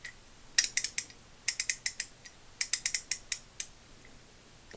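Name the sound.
vintage 3/8-inch drive ratchet ratcheting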